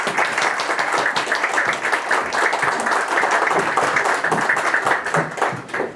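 Applause for the final panel of speakers at a conference session, a dense, steady crowd clapping filling the room for the whole stretch, fading slightly at the end.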